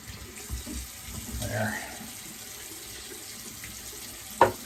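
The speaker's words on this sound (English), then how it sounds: "Try and get all that soap out of this brush." A faucet runs in a steady hiss while lather is rinsed from a shaving brush with gel tips, with soft splashy variations and a sharp knock near the end.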